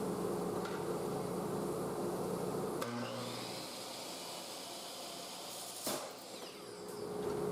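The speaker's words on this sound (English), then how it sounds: "I had the idea that I was just going to cut this very thin hinge down to length with my miter saw." A miter saw cuts a very thin hinge down to length, its loud, continuous whine broken by two sharp cracks partway through, with no voices.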